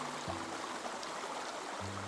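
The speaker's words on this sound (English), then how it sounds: "The creek bubbled." Steady rushing water flows throughout, a soft continuous babble like a nearby creek, with a low hum underneath.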